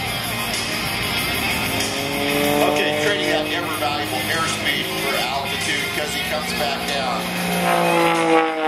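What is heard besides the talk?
aerobatic plane propeller tips howling at supersonic speed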